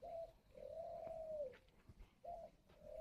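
Spotted doves at a breeding farm give soft, repeated coos in several phrases, moderately close and clear over a faint background hum, with no talking.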